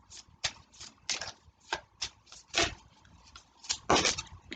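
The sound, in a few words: tarot cards being shuffled and drawn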